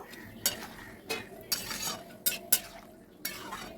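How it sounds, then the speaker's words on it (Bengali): Fried lentil dumplings being stirred into a watermelon rind curry with ground poppy seed: a handful of scraping, clinking spoon strokes against the pot at an uneven pace, close and fairly clear, with no talking. "বড়াগুলো দিয়ে নাড়াচাড়া করবো, বড়ার জল টেনে নেবে।"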